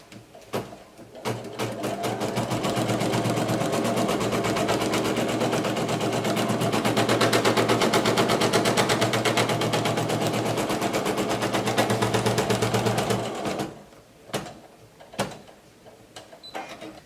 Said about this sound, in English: we are going to place the hoop on our machine and embroider the first step